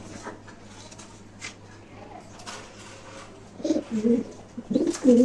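Pigeons coo in a home pigeon loft while young birds have rings fitted on their legs. Soft, low cooing swells near the end over a steady hum and faint background chatter.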